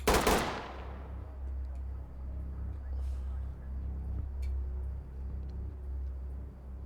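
Burst of video game gunfire opens sharply and decays, followed by a low steady rumble and faint scattered noises.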